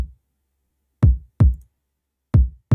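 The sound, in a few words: kick drum sample with Fresh Air plugin adding high end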